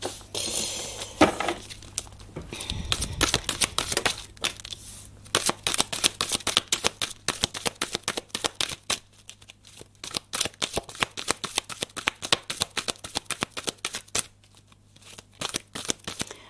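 Playing cards are shuffled and drawn in a quiet room, giving rapid riffling flutters and crisp slaps that repeat in uneven bursts, close and fairly loud, with no one speaking.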